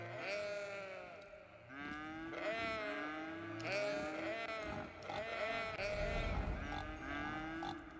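Sheep bleating in the city-building game Cities: Skylines, several overlapping wavering bleats mixed with lower moos from cattle, a steady farmyard chorus of game animals with no talk.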